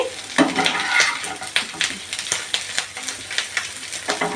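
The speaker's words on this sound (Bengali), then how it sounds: "আমার ভুড়ি ভাজা হয়ে গেছে" Beef tripe frying in a pan makes a steady sizzle with repeated sharp scraping and stirring clicks of a utensil against the metal, close and fairly loud, with no voices.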